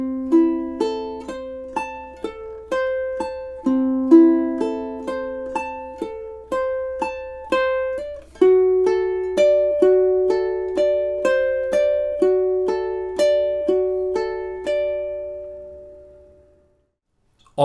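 Two measures of Bach's Prelude in C played on a classical ukulele, clear plucked notes rolling out in steady broken-chord patterns, each ringing and decaying, close and alone.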